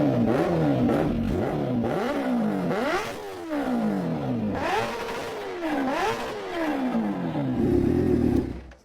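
A supercharged Kawasaki H2R motorcycle engine revs repeatedly, close and loud, each blip rising sharply then falling back, with a high supercharger whine over the rhythmic surges and a lower idle near the end.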